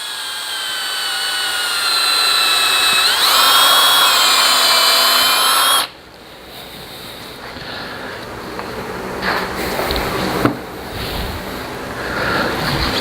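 An electric drill whines steadily at close range for about six seconds, then stops, leaving quieter handling noises and faint clatter.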